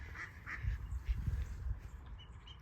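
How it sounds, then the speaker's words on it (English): Ducks quacking excitedly near a fishing spot in England, a loose run of bursts with low flapping or splashing beneath, moderately close and fairly faint. "the ducks are having a fit"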